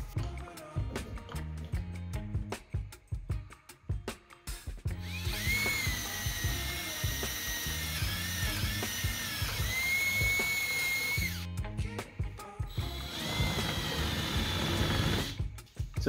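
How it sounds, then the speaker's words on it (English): A power drill whines steadily while boring through barnwood for a chandelier, with a brief pause before it spins up again. Clicks and handling noises come before it. "I need to drill a hole through the top right here for the cord to go in."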